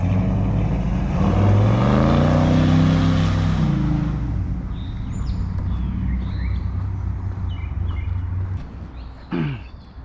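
A 1972 Oldsmobile Cutlass 442 convertible with a 454 LSX engine swap revs hard in a loud, sustained roar that rises and falls, heard up close outdoors, with faint background chirps near the end.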